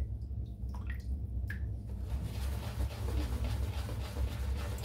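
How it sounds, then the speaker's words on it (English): Water dripped into the knot of a shaving brush: a few soft, faint drips in the first seconds, followed by a steady low wet hiss and rumble. "and then just drip some water into the knot"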